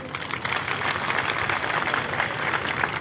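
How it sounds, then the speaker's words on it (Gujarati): Audience applause for Chirag Jhala at a live Koli community event in Dhoraji, a steady wash of many hands clapping that holds at an even level for about three seconds with no voices on top. "આપણે ફરી વખત એમના તાળીઓના ગડગડાટથી સન્માન કરશું"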